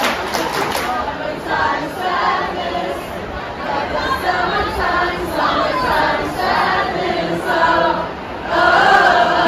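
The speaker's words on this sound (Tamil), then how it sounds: "இப்போ பாருங்கள் எல்லாரும் இப்போ கத்துற சத்தம் உங்களுக்கு இருக்குதா?" A big concert crowd at Fenway Park in Boston roars and chatters in a steady, dense wash of voices that swells near the end, with nearby talk mixed in.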